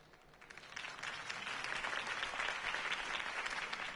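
Crowd applause follows Harvey Dent's campaign speech in Batman: The Telltale Series, rising from quiet into a sustained wash of many clapping hands heard at a slight distance, with no voices over it.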